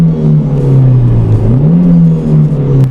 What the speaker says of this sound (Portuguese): tem 2 testes que eu gosto de fazer nos carros, que é, primeiro, é o ruído do motor.